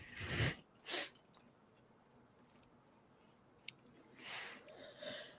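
A pair of sharp, close sneezes burst out in quick succession at the start, then a quiet room with faint rustling and softer breathy sounds near the end.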